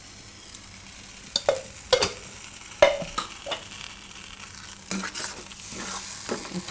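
A spice paste thinned with a little water cooks in a pan over low gas for a broccoli and cashew curry; a soft, steady sizzle is broken by a few sharp spoon clinks and stirring scrapes, close and without talk.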